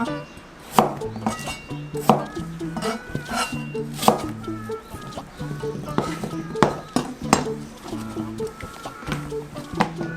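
A knife chopping half an onion into large pieces on a board, with a series of sharp, irregular cuts up close and music playing underneath.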